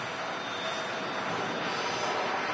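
An Airbus A220 airliner at Manchester Airport gives a steady, loud, broadband engine roar that holds evenly throughout, with no voices.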